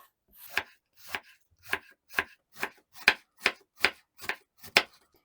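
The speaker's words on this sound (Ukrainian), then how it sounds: "Я сьогодні взяла молоду капусту, зараз якраз сезон, і поріжу її міленькими смужечками." Young cabbage sliced into thin strips with a knife, ten crisp chops falling in a steady, even rhythm, close and clear with no talking.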